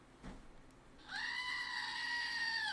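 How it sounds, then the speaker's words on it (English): A little screaming goat toy lets out one long, loud, nasal synthetic scream that holds steady for over a second after a soft click, with faint room noise and no talking. "there's a little goat in here that screams."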